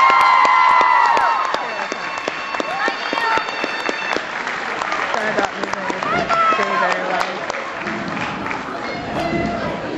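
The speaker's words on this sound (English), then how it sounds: "Give them a round of applause." A crowd applauds and cheers at an anime convention panel at Megacon 2008, a strong burst that fades to scattered clapping as people talk and voices rise over it.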